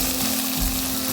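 Small onions and shallows sizzle hard in hot oil in a pan for mutton varattiyathu, a dense, steady crackling hiss up close with no talking.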